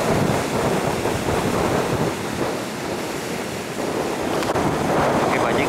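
Strong storm wind roars over heavy sea waves around a boat heading toward shore, a loud continuous rush with buffeting gusts and surging water throughout.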